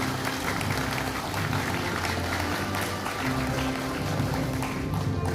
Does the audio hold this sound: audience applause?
yes